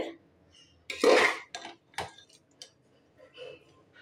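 A spoon clanks and scrapes against a metal pot while basmati rice and gravy are stirred for biryani, giving a few sparse metallic clinks and one louder scraping rattle.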